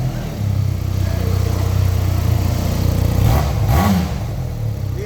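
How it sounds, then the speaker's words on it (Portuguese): An SBM 400S two-cylinder motorcycle engine runs steadily nearby, a low, even mechanical drone with a brief rev bump near the end, heard alone without talk. "Olha o barulhinho ali do motor dela."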